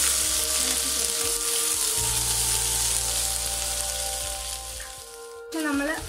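Ginger garlic paste frying in hot oil, a steady dense sizzle close by with occasional stirring, then a brief lull and a louder crackle near the end.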